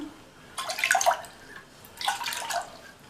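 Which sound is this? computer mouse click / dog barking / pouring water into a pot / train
pouring water into a pot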